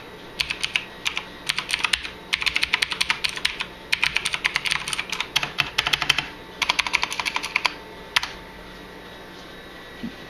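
Fingers typing on a Razer mechanical keyboard with clicky blue switches, bursts of sharp rapid key clicks close up, separated by short pauses, no talking.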